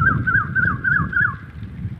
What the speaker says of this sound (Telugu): చూసారా ఫ్రెండ్స్ ఆ కోయిల ఎలా అరుస్తుందో.